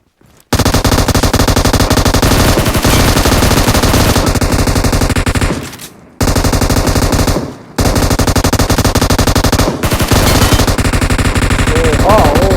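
Sustained automatic gunfire from a boss enemy in the Metro Royale video game, loud and close, firing in long continuous bursts broken by a couple of brief pauses.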